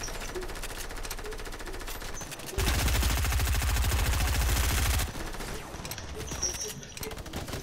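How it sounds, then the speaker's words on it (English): A minigun in Fortnite Team Rumble unloads a loud, sustained rapid-fire burst lasting a couple of seconds, bracketed by quieter gunfire and game sounds before and after. "Someone had a minigun?"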